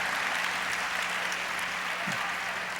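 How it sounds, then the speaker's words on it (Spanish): A church congregation applauds, a steady, dense wash of clapping at moderate volume that holds without a break. "Un aplauso fuerte al Señor con mi hermano Fernando Rueda."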